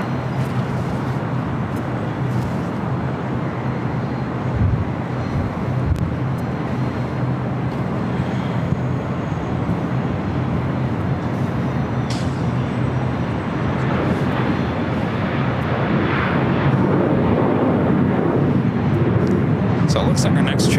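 Aircraft taxiing at LAX airport give off a continuous broadband jet engine roar and rumble that holds steady throughout, with voices talking over the noise.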